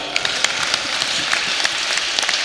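Audience applause at an Indonesian religious talk, a dense wash of many hands clapping steadily and fairly loud, with no speech over it.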